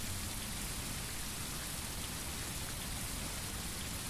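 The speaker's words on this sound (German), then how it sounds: "und das bei Regen." Rain in the driving game Tourist Bus Simulator makes a constant, even wash of falling drops, steady and unbroken, with no voices.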